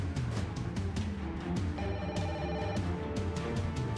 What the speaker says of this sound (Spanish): Contesta el teléfono.